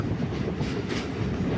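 MEMU train running from Ernakulam toward Palakkad Junction, heard from inside the carriage as a loud, continuous rumbling roar with steady rail clatter underneath and no voices.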